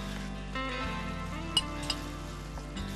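Mutton sizzles in a pan with tomato and spices, a soft steady fry heard close up with a couple of brief clinks of a utensil against the pan.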